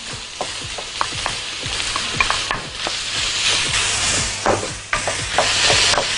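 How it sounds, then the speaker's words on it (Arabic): Minced meat fries in a pan with minced garlic, giving a steady close sizzle. A utensil clacks and scrapes against the pan in frequent stirring strokes. "وبعدين هننزل بسم الله اللحمه المفرومه"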